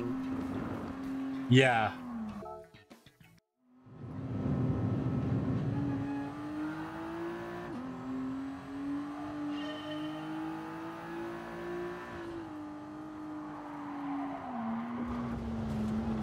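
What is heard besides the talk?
race car engine, video game Gran Turismo Sport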